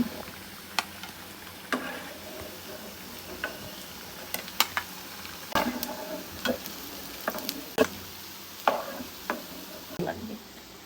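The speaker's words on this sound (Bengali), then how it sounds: "এরকম লালচে লালচে করে আমরা ভেজে নেব" Fish kofta balls fry in hot oil for a kofta curry, a steady low sizzle broken by sharp crackling pops and spatters every second or so, close and fairly loud with no talking.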